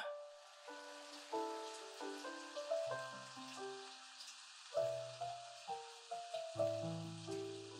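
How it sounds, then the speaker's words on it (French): Steady, dense rain hiss runs throughout beneath a series of soft, ringing melodic notes that rise and fall in short phrases. "Il pleut des cordes."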